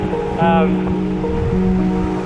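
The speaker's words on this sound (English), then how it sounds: "The river here is completely flooded out." A flooded river rushes after heavy rain, a steady broadband wash of water running throughout while a voice briefly sounds over it.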